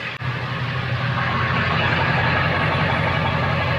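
A low, steady idle from a straight-piped 7.3L Power Stroke diesel van exhaust rumbles continuously, fairly loud and even, with no talking.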